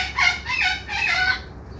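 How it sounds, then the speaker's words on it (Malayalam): A cockatoo in a bird park lets out a loud, raspy call close by, in two or three harsh pulses that run together and fade quickly. "ഇത് ഈ കാണുന്നതാണ് കൊക്കട്ടു"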